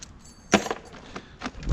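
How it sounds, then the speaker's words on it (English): House keys jingle in a few short metallic bursts of clinks and rattles, close and distinct against a quiet background, from a pile of dumpster-dived student move-out items. "Those are expensive keys for a house,"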